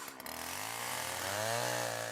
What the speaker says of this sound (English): Luke's chainsaw will be the quickest way of cutting through to an answer.